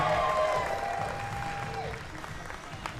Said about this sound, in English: please give a big round of applause for Lizzy Evo